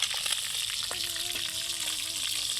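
Food frying in oil on a gas stove, a steady close crackling sizzle with brief pops, faint and continuous, while a thin whistling tone drifts in the background.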